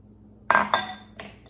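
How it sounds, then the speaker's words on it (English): A whisk clinks and taps against a bowl while beating egg whites with powdered sugar, in three short bright bursts separated by brief pauses. "I'm gonna mix it some more, get it all blended together. The egg whites and the sugar."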